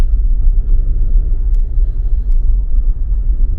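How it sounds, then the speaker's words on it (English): Steady low rumble of city car traffic heard from inside a moving vehicle on Cebu City streets, a continuous close road drone with no voices. "Traffic is back."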